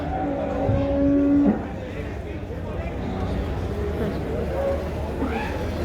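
Cattle at a weekly livestock market, with one loud, drawn-out moo up close early on, then a busy murmur of the crowd where people talk and other animals call faintly.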